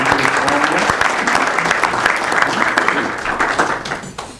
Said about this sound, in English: keep the applause going for Omnia